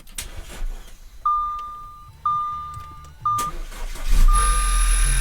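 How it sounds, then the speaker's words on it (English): An Audi B8 is being started after an accident repair: a series of repeated warning chimes sounds inside the cabin, then the engine cranks and catches with a sudden burst, settling into a steady close idle. "as you can see, car started"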